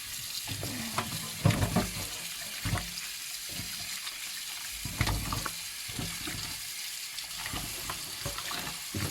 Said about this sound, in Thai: กระดูกซี่โครงหู่นะคะ มาล้างทำความสะอาด